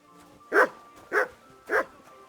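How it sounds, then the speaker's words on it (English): Dog in Kingdom Come Deliverance 2 barks three times at an even pace, each bark clear and fairly close against a quiet game background. "Aye, aye, you silly doggy."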